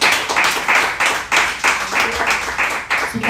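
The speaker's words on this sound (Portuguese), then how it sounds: "Aplauda ao Senhor com o seu melhor." A church congregation at Igreja de Nova Vida do Catete claps in a strong, steady unison rhythm, loud and close, with roughly two to three beats per second and no talk over it.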